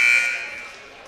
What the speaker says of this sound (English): So sound the warning buzzer